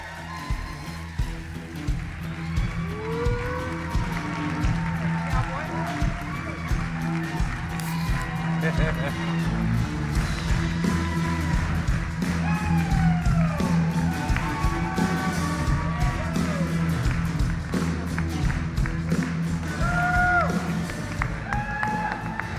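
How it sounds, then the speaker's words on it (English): Large conference audience applauding and cheering for company executives, sustained dense clapping with whoops and shouts under booming music, loud and continuous throughout. "Give them a huge round of applause."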